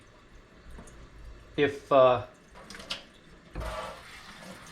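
Soft running water from a tap trickles and splashes while a hydro-dipped plastic piece is rinsed, a faint continuous flow broken by a few brief louder splashes, with a voice speaking quietly.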